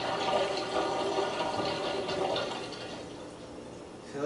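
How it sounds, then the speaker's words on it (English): A keg filling with lukewarm water during beer brewing: a continuous rushing pour that stays close, gradually softening, then swells again briefly at the end. "fill a keg to 4-quart mark with lukewarm water"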